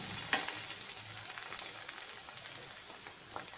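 Bread slices for French toast frying in a pan over a low simmer flame, giving a constant close hiss and crackle with a few small spatula taps scattered across the few seconds, no voices.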